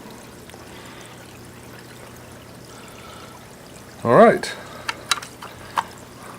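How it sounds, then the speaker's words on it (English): Water is poured back into a Fluval Edge aquarium filter in one short gurgling splash, followed by a few faint drips and trickles; a person speaks briefly. "little bit of water back inside of here to kind of get the flow going again"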